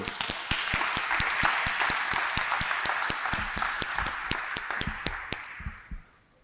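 An audience at a mayor's family meeting breaks into steady, fairly loud applause with some sharp individual claps, then fades out and stops near the end.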